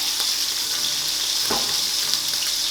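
Meat searing loudly in a hot frying pan, a steady broad sizzle with a brief thump and burst of crackle near the middle as it settles against the metal.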